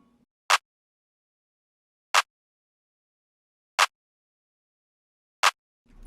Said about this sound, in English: I just started off with a simple clap